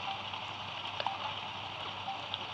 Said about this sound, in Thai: วันนี้ฝนตก ฝนตก เปียกหมดเลย